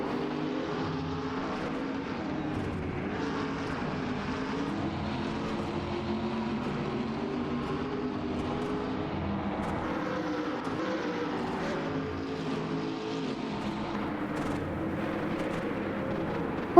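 Simulated race cars in a video game endurance race at La Sarthe, including a Lamborghini Huracan, producing a steady, dense engine drone with layered tones throughout, moderately loud and continuous without pauses.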